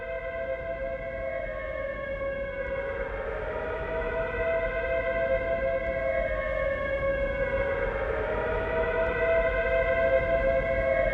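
Air raid sirens wail in a wartime prison camp, several rising and falling tones overlapping in a steady, loud drone that swells slightly and holds throughout, with no voices.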